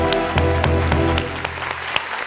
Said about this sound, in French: Applaudissez pour Mario.